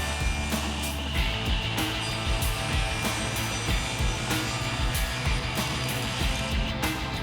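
A miter saw running and cutting a wooden board for a valet box, a steady loud whining motor roar with a rough cutting rasp throughout, close up and continuous without speech.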